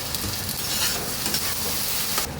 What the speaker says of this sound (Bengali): এই যে কাঁচা লঙ্কা আর সরষা করে বেটে নিয়েছি, দিয়ে দেব।